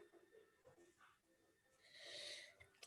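A single sneeze: a quick breathy intake followed by a hissing burst, fairly faint and close, ending in a sharp click.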